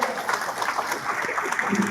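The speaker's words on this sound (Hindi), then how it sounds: "इनके लिए जोरदार तालियां हो" An audience at an Ulhasnagar election campaign rally, addressed by Smriti Irani, applauds a row of journalists, a moderately distant, continuous patter of many hands that holds steady throughout.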